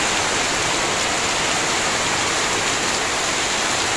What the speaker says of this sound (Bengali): আমাদের এখানে অনেক বৃষ্টি পড়তেছে আসমান থেকে